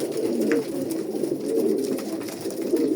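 Steady, throaty cooing of Jansen-line racing pigeons fills the clip, several birds overlapping in soft rolling calls with no pause, close by and fairly loud.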